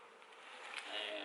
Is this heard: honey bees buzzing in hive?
yes